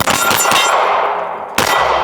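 Gunshots at a shooting range, each followed by the ringing clang of a struck steel target; loud, close reports in quick succession and one last shot with a metallic ring.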